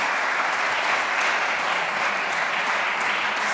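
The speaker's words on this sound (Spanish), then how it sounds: "Le damos un fuerte aplauso a nuestro invitado internacional" An audience at a seminar applauds an international guest, a dense, even burst of clapping that holds steady without pause.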